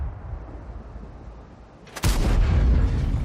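IS-3 tank cannon firing in a game: after a low engine rumble, a single sudden loud blast hits, followed by a heavy booming roar that lingers and slowly tails off.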